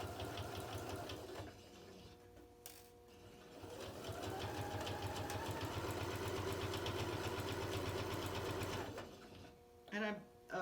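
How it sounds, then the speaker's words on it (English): A domestic sewing machine runs back stitching through fabric for a fabric bin, a steady rapid mechanical whir that pauses briefly and resumes, ending in a few faint clicks. "So I'm going to back stitch first and then move forward."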